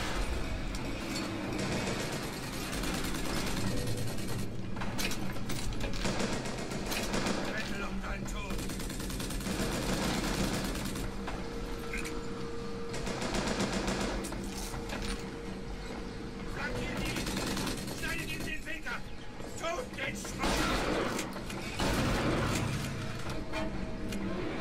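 Pump shotgun fire and other weapon blasts in BioShock Infinite, a dense run of loud booming shots and mechanical clatter that continues for the whole stretch, with a voice talking over it.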